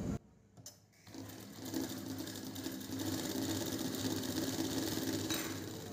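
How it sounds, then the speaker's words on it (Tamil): A sewing machine stitches fabric in a tailoring class, a steady fast mechanical whirr that starts after a brief pause and runs on evenly and close by. "இப்போ இது மேலேயே தச்சிடலாம்."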